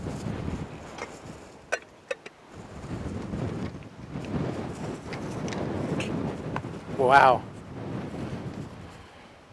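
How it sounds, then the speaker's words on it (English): Wind gusting across open ground at Bosque del Apache wildlife reserve in New Mexico, buffeting the microphone in uneven swells, with a brief voice exclaiming once and a few light clicks. "Windy day."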